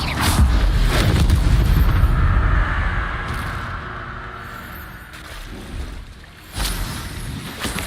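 An Expelliarmus spell cast in the Hogwarts Legacy video game lands as a loud, deep booming burst with a broad rumbling roar that slowly fades, followed by a fresh sharp burst near the end.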